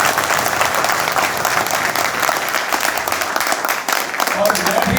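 Loud, sustained applause from a large crowd, dense clapping filling the whole stretch without a break.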